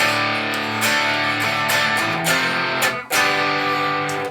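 A distorted electric guitar riff with sustained chords and quick accents, building steadily and loud, with a brief dropout near the end before resuming.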